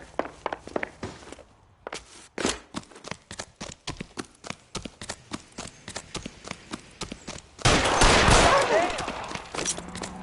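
Gunfire in the video game L.A. Noire, a long run of sharp irregular shots with brief pauses, followed by a loud sustained burst of noise near the end, with voices faintly present.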